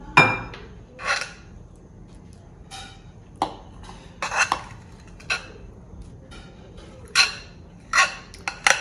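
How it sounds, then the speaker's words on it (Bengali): A spoon scraping and knocking against a bowl while melted chocolate is mixed for a homemade granola recipe, giving scattered clinks and taps with quiet gaps between, near and moderately loud. "আমি চকলেট এখন মিলিয়ে দিচ্ছি।"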